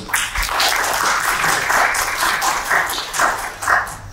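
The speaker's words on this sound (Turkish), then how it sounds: "Ümit Efendimni sahneye alkışlar bilen teklif kıldım" Audience at a formal assembly applauding as a speaker is welcomed on stage, a continuous mid-distance crowd clapping with uneven swells.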